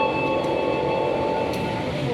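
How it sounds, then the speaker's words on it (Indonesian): A parcel train rumbles steadily at Yogyakarta station, a continuous close rail noise with faint high metallic tones over a broad low roar for the whole stretch. "Ini kereta api Parsel teman-teman."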